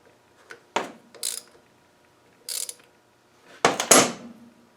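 An Adwest steering box is worked back and forth by turning its wheel, producing several short mechanical clunks and grinding rattles in separate bursts, the last two louder, with quiet gaps between.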